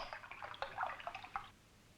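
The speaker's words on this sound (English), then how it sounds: "Pour the water into the glass, so." Colored water poured from a jug into a glass, a short soft gurgling pour lasting about a second and a half before fading to quiet.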